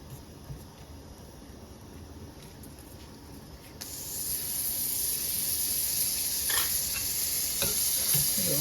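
An aloo paratha fries in butter on a pan. A soft sizzle swells partway through into a louder, steady hiss with faint crackles and no talk.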